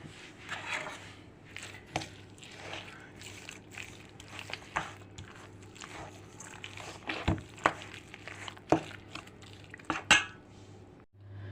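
Buckwheat cutlet mince being mixed in a bowl produces irregular clinks, knocks and soft squishy scrapes of a utensil against the bowl, close by and sharper toward the end, with no talking.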